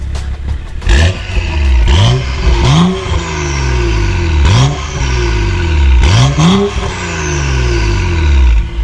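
A BMW 135i engine revs hard several times, rising and falling in loud raspy bursts through a stock exhaust with a catless downpipe, close by.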